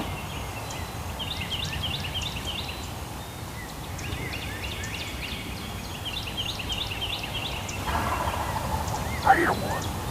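Wild Alabama turkey gobblers gobble repeatedly at a distance in an outdoor hunting setting, several rattling bursts spread across steady background ambience, with one sharper nearer call near the end.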